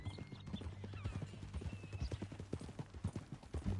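A horse on a ranch clip-clops along in a steady, moderately close rhythm of hoof strikes, with a faint whinny-like tone and a low hum underneath.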